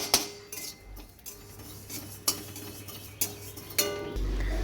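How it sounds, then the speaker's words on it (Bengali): Cumin seeds dry-roasting in a dry wok, stirred with a metal spatula that gives several sharp scrapes and clinks against the pan at a steady pace, quiet between strokes and with no voices. "যে জিরে বাটিতে দেওয়া হবে সেটা শুকনো কড়াইয়ে ভেজে নিচ্ছি"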